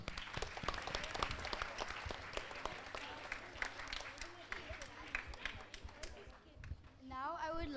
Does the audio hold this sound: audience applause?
yes